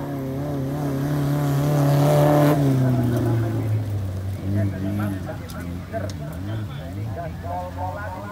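Rally car engine revving hard at the start of a sprint rally stage, loud and rising before dropping to a lower drone and fading, with people talking nearby.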